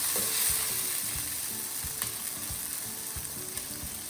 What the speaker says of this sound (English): Just fry for a few seconds till golden color